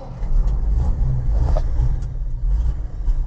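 A loud, low truck engine cranks in cold weather, rumbling and straining continuously, close by, with a rough idling drone throughout.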